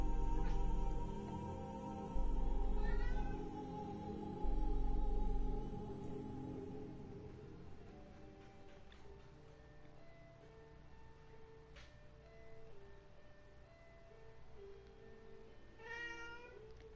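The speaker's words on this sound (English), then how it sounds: "there's a cat in the background, and he doesn't stop" A cat meows persistently in the background while steady game sounds and music carry on, the calls recurring across the stretch at moderate distance.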